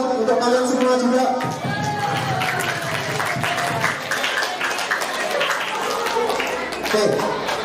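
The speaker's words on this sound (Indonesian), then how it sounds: "Tepuk tangan untuk Mas Rizal, untuk kalian semua juga." Classroom group clapping for a student named Rizal, a dense round of hand claps running throughout with a voice talking over it.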